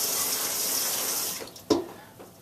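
Water clouded with plaster gushes out steadily in a splashing rush as it is tossed from a container, then stops abruptly, followed by a single sharp clatter and a few drips.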